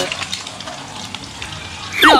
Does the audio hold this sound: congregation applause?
no